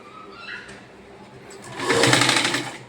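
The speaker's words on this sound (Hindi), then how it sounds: "अब इसमें साइड की फिटिंग में सिलाई मार देंगे" A sewing machine stitches the side seam of a straight kurti. A quiet rattling stitch swells into a louder, faster run near the end, alone and close by.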